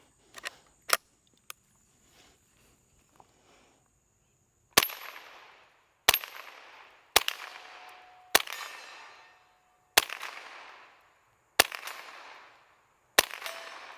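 A 1958 Browning SA 22 rifle fires seven evenly spaced shots, each a sharp crack followed by a ringing decay from steel targets, preceded by a few faint clicks and handling sounds.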